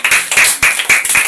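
A storytelling audience claps in a quick rhythmic burst, several sharp, close, loud handclaps in rapid succession.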